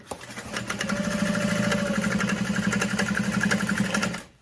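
A sewing machine stitches a seam on a crossbody bag at a long stitch length, running in one fast, steady buzzing burst of rapid needle strokes for about four seconds, close and loud, then stopping abruptly.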